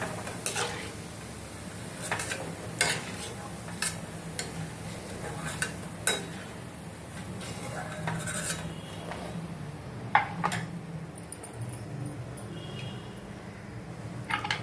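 Fried meal maker chunks stirred in hot oil and lifted out, a steady sizzle under repeated metallic scrapes and clinks of a spoon against the pan, close and continuous.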